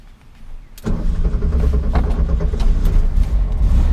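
Brief quiet cranking, then the rebuilt original engine of a 1967 Volkswagen Karmann Ghia catches and fires up, settling into a loud, steady idle close by.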